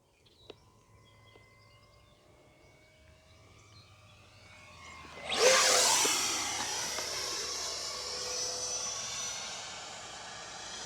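Dynam Meteor V3 70mm electric ducted fan model jet flying at an RC field, a faint whine at first, then a loud rushing high-pitched pass around the middle that fades slowly, with no talking.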